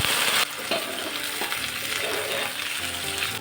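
Sliced onions go into a pan of garlic frying in oil: a loud sizzle drops and softens as they land, followed by intermittent stirring scrapes over a steady crackle.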